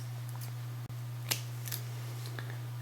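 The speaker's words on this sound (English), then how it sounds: "I'll cut this yarn." A single close snip of scissors cutting crochet yarn, a faint crisp click over a steady low electrical hum in a quiet room.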